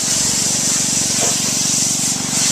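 Water spraying onto a vehicle during fleet washing on a car lot with a Shine Pro 2-in-1 wash system, a loud, steady hiss running without a break, with a low engine-like drone beneath.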